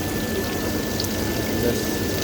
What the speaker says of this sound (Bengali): এইটা কলটা সম্পূর্ণ সেন্সর কাজ করতেছে